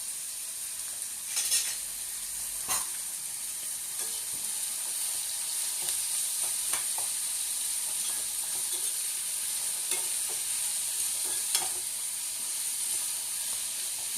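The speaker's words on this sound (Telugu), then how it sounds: "ఇది చిల్లీ కూడా వేస్తున్నానండి." Onions and chili fry in a pan with a steady, bright sizzle while a spoon stirs them, giving occasional scraping clicks against the metal. There is no talking.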